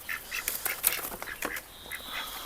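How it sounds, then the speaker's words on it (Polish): A white domestic duck quacks in a run of short, nasal calls, close and fairly loud, with a steady higher whine running underneath during the second half. "Zajrzymy do tamtej kaczuszki, do tej białej."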